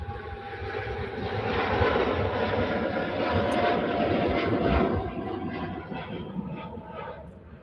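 A Gulfstream business jet takes off at Manchester Airport, its broad roaring rumble swelling from a distance, holding steady, then easing away, with no talking.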